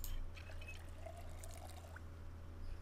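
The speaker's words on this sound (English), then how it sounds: "fill up the water bottle." Water pours faintly into a water bottle in the Project Zomboid video game, a quiet, brief trickle heard alone.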